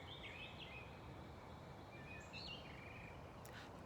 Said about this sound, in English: Do you hear all those wonderful bird calls?